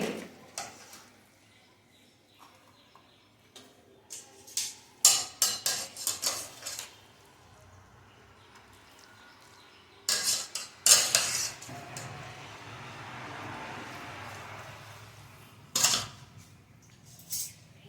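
Metal fork and spoon clink and clatter against a plate while Hakka noodles are served in a home kitchen, in several bursts of close, bright taps separated by quieter stretches.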